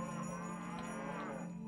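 Cattle low in a video game, a sustained, fairly quiet moo drawn out over a couple of seconds against a steady background hum, with no talk.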